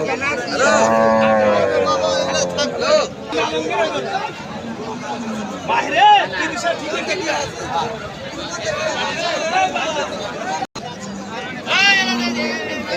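Dairy cattle low and moo now and then amid a busy crowd of chattering voices at Choubaria livestock market, a steady hubbub of people and animals close by.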